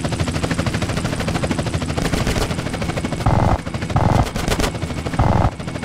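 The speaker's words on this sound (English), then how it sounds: "CJ, that chopper's all over." Police helicopter rotors thud under bursts of rapid gunfire in GTA San Andreas, loud and close, with several heavier shot bursts near the end.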